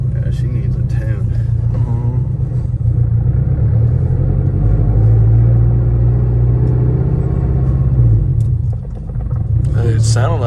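A turbocharged FR-S engine with a deep, steady rumble and shake coming through the mounts, heard from inside the car; the low drone holds loud and even, then dips briefly near the end while people talk.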